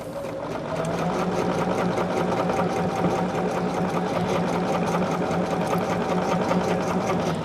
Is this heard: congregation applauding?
no